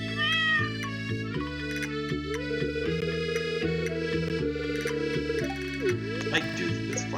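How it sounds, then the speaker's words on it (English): A cat meows in a cartoonish farming video game, its short calls rising over steady, bright background game music that plays throughout. "I do see this cat. He's adorable."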